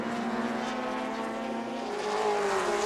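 Touring cars race at Symmons Plains, Tasmania, in 1984, a BMW among them: a loud, sustained engine drone holds a steady pitch, then rises slightly as the cars draw nearer, with no voices.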